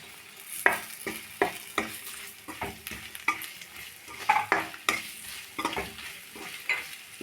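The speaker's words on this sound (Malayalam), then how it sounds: "പിന്നെ ഒരു സവാള ഞാൻ കുറച്ച് വലിപ്പത്തിൽ അരിഞ്ഞു വെച്ചിട്ടുണ്ട് അതിടാം" Sliced onion fries in a pan under a soft sizzle while a spoon stirs it in repeated scraping strokes, close and rhythmic with no talking.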